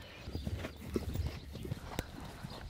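Horse hooves clip-clop in a steady walking rhythm close by, with faint background murmur.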